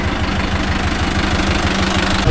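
A Mahindra Yuvo Tech Plus 585 4WD tractor engine runs steadily close by, a loud, continuous diesel chug with a rhythmic low knock, heard alone without voices.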